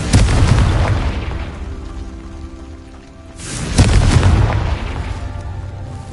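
The Confringo blasting spell in Hogwarts Legacy bursts in two loud booming explosions a few seconds apart, each trailing into a crackling, rain-like rumble, with no voices.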